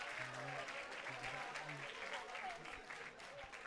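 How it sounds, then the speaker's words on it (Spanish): A seminar audience at a science week event claps for a staff member, a sustained round of applause filling the room, with a voice and low hum faintly beneath the clapping. "un aplauso a Javier."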